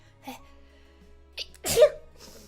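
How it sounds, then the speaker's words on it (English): A single close, sharp sneeze after a couple of quick breaths, with quiet room hum around it. "Hold on, I gotta sneeze."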